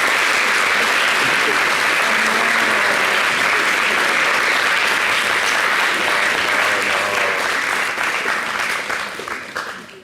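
A television studio audience greets a guest with loud, sustained applause filling the set, and faint voices come through beneath the clapping before it fades at the end.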